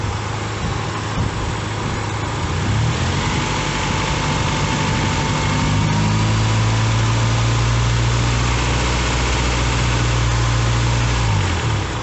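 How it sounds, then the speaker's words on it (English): A Honda Prelude engine with a failing alternator runs steadily at a low rumble, then the pitch rises as it revs up and holds higher before dropping back near the end. "I'll turn the RPMs up a little bit and see where it's at."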